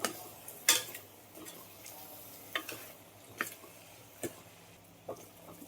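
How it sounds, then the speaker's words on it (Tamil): A spoon stirs chicken curry with salt and curry masala powder in a pan, giving faint, sparse scrapes and clinks spaced a second or so apart over a quiet background. "அதை போட்டு நல்லா கலந்து விட்டுக்கோங்க."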